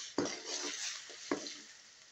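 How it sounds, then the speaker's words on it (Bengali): Ground spices with turmeric, chili and coriander stirred and sautéed in a hot pan, a soft sizzle under two sharp scrapes of the spoon, close and fairly quiet. "মশলাটা ভালোভাবে কষানো নিলাম।"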